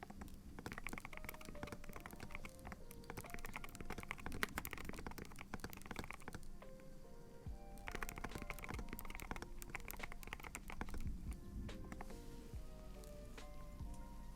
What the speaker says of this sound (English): So I'm really typing more than talking today.